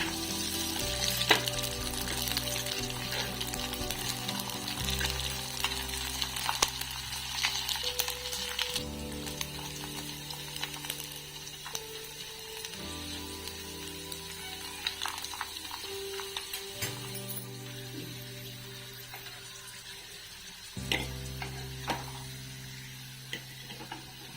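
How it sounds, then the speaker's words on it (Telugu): Poha vadiyalu, crisp rice-flake fritters, fry in well-heated oil with a continuous crackling sizzle, and occasional utensil clinks stand out over it. "ఆయిల్ బాగా హీట్ అయిందండి ఇప్పుడు వడియాలు వేసుకుంటున్నాను"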